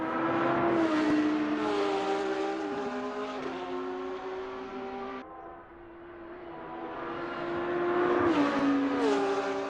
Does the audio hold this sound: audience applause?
no